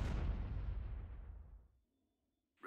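A heavy blast of an ion cannon in the game Awakening of the Rebellion booms loudly, then decays steadily into silence over about two seconds.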